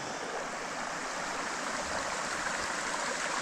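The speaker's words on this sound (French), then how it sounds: "nous avons déjà la satisfaction d'une mini cascade" A small waterfall in the Malinette valley near Castellaras de Thorenc gives a steady, even rushing hiss of falling water, close and continuous with no voices.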